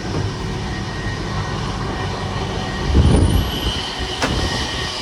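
Train at a railway station, heard as a steady rumble of a standing or slowly moving train with a brief louder clatter partway through and faint station ambience, no one speaking.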